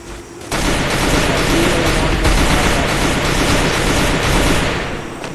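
Gunfire in the video game Free Fire comes as a dense, continuous volley of rapid shots that stays loud and steady for several seconds, then eases slightly at the end.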